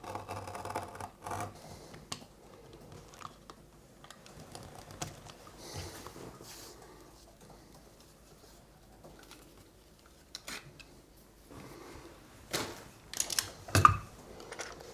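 Scissors snip out a piece of headphone leatherette along a marked line, with a series of small close cuts and rustles in a quiet room, growing busier and louder toward the end.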